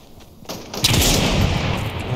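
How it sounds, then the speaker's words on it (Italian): Rapid bursts of Fortnite gunfire crackle loudly and continuously, a dense stream of shots after a brief quieter lead-in. "Oh, spari, spari, spari, spari."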